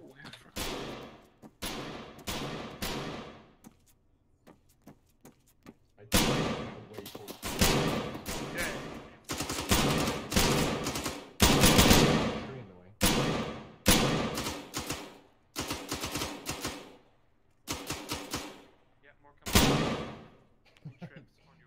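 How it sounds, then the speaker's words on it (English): Bursts of gunfire ring out in a military shooter video game set during an extraction operation. Repeated loud volleys and rapid automatic strings come in clusters, with brief pauses between them and some talk mixed in. "Shots, but where from?"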